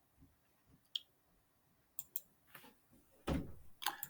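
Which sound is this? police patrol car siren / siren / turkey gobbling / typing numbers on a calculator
typing numbers on a calculator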